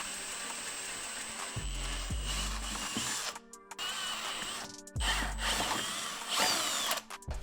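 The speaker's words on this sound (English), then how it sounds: "Make sure you're nice and straight here with the drill." A power drill bores holes through a Suzuki RM motorcycle fender, with two short motor bursts spinning up and winding down, close and fairly quiet, between stretches of low background noise.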